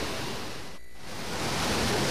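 The Cavagra river flowing, a broad steady rush of water that dips briefly in the middle before swelling back, loud and continuous with no voices.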